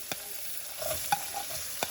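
Oil sizzles steadily as chopped onion and garlic fry, with a few sharp clinks of a spoon stirring the pan.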